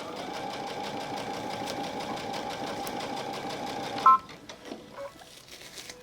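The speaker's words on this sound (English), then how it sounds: "I'm going to sew through the whole side and stop." A sewing machine stitches steadily along the side of a fabric bag strap in a continuous, close whir, then stops abruptly, leaving a few soft handling clicks and thumps.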